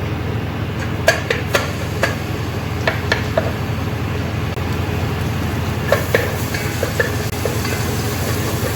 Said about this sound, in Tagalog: we need olive oil, small amount, and fry the garlic